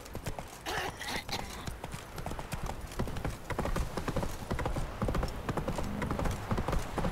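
A horse gallops at a steady, rapid beat in The Witcher 3 video game. The hoofbeats are loud and close, with no talk over them.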